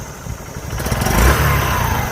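Motorcycle engine at a rural spot, running steadily and swelling louder in the middle as if revving or drawing closer, then holding a continuous drone.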